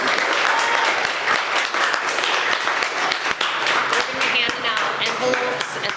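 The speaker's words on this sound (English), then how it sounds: "So let's give Pisco Sour another round of applause." Sustained audience applause fills a campaign kickoff event for a county commissioner race, dense steady clapping from a crowd throughout with some voices mixed in.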